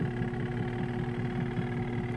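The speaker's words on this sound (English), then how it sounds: "And this here is the wash timer and sounds like this." A portable washing machine's wash timer runs in an RV laundry setup, giving a steady, close mechanical hum and rumble with no pauses and no talk.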